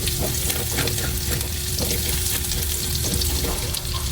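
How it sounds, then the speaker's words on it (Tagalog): Garlic sautéing in hot oil in a wok for sweet-and-spicy fish escabeche, a steady broad sizzle with faint stirring clatter throughout, close and continuous with no talking. "At dito na rin po tayo magigisa. Lagyan na po natin yung bawang."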